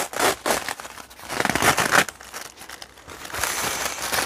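Adhesive tape being peeled off a bicycle wheel and crinkled, a run of close, uneven crackling and tearing bursts lasting several seconds with no speech.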